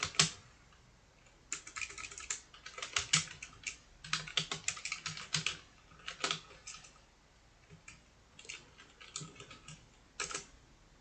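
Keys clatter on a computer keyboard as code is typed, fairly quiet and close, in irregular bursts of quick clicks separated by short pauses.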